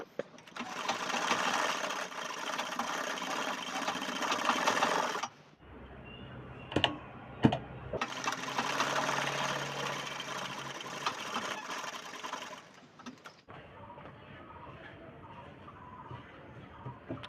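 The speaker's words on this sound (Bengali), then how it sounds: "প্রথমে গলার পট্টিগুলো সিলে নিই" Sewing machine running in long continuous bursts of fast stitching as the neck strips of a churidar top are sewn, with brief pauses and small handling clicks between runs, close and steady.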